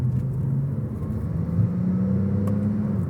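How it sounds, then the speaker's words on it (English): A Porsche 911 Turbo engine rumbles steadily with a low, droning exhaust note and a faint whooshing turbo spool whir above it, close and continuous. "You hear the turbo spool and they sound pretty awesome, honestly. It kind of has like a whooshing noise."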